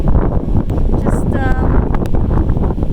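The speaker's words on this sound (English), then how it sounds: "And it's windy." Strong wind on an exposed Appalachian Trail ridge buffets the microphone with loud, continuous rumbling gusts, and a brief voice is heard underneath.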